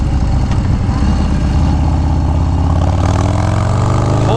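A 2019 Harley-Davidson Street Bob with a Stage 4 build and a Bassani Road Rage exhaust runs close by, a loud, deep and steady engine rumble with no talking over it.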